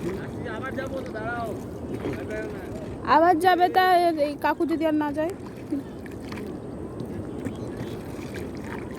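A small rowboat moves across the water while steady wind and water noise run underneath, and people talk loudly over it throughout.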